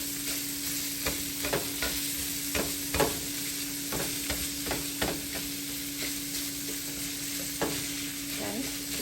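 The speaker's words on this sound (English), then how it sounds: "we're gonna let it saute probably about 2 minutes" Salmon egg roll filling sautéing in a pan, a continuous sizzle broken by regular sharp clacks of a utensil scraping and stirring, close and fairly loud, with a faint steady hum behind and no talking.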